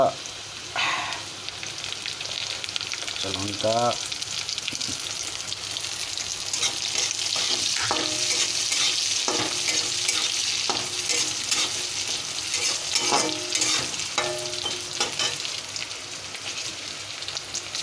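Ginger and green chillies sizzle steadily in a hot pan while being cooked for a vegetarian mushroom dish. Scrapes of stirring come through repeatedly, close and clear, over the continuous frying hiss.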